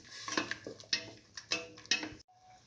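Stirring ground coconut mix into mung bean stew in a pot, a run of close, irregular spoon clinks and scrapes against the pot over soft wet mixing, stopping abruptly near the end.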